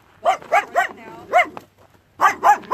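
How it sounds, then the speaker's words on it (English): A guard dog barks in a repeated run of loud, close woofs, a short pause, then three more barks near the end, with quiet ambient noise between. "And the guard dog."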